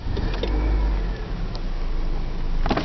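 A 2008 Honda Civic Type S started with the push button, a low steady engine rumble running throughout close by, with a few faint clicks and a brief whir near the end.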